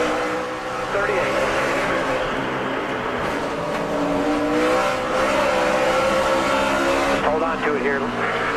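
NASCAR race cars roar past at speed during a 2011 race, with engines droning and shifting pitch continuously, a few rising revs and passing surges near the end. Radio chatter sits under the steady, loud engine noise.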